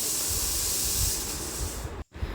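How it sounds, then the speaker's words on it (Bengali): Pressure cooker releasing steam through its whistle while dal cooks on a cold day, a loud continuous hiss close by that cuts off abruptly near the end, then resumes briefly. "ওয়েদারটা একটু ঠান্ডা হওয়ার দরুন প্রেশার কুকারে সিটি পড়তেও টাইম লাগছিল"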